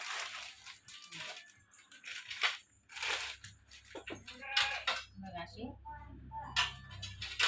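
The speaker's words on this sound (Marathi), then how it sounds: "तीन झाक तीन तीन पातेल्यावरती तीन झाकणे एकदम सगळी भांडी घेतली स्टीलच आहे" Steel cooking pots and their lids clatter and clink as they are handled, a string of bright metallic knocks and scrapes in an uneven rhythm, close by, with people talking over them.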